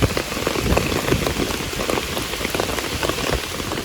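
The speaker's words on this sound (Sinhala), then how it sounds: "අපි හිතුවේ නැති වෙලාවක තමයි අපිට මේ වැස්ස ආවනේ" Heavy rain pours steadily during a road trip to Sigiriya in Sri Lanka, a dense, continuous hiss of drops pattering on surfaces, loud and unbroken, with no voices.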